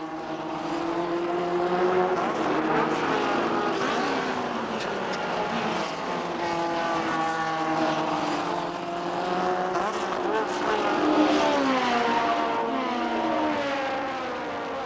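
Race cars battle wheel to wheel in the Players Pacific, rookies Dave Morris and Gilles Villeneuve in number 13 dueling veterans, their engines a loud, continuous snarl of overlapping revving tones that rise and fall with gear changes throughout.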